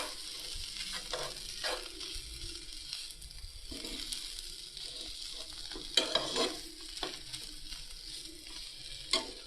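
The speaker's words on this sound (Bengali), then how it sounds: "তো এখন আমরা ফ্রাই করে নিচ্ছি।" Boiled potatoes frying and being stirred in a pan, a steady sizzle broken by scraping strokes of a spoon and a few sharper clinks, close and continuous with no voices.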